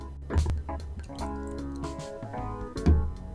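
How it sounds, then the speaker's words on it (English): Weller Special Reserve bourbon poured into a glass, a close, brief gurgling trickle with soft drips and a couple of louder knocks as the bottle tips. "Let's give this a pour."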